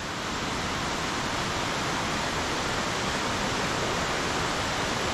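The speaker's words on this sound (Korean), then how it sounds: "아까 그게 비가 아니고 이 폭포에서 떨어지는 물줄기였나봐요." A large waterfall in Sounkyo Gorge, Daisetsuzan, roars as a steady, dense, full-range rush of falling water, continuous and unbroken with no voices over it.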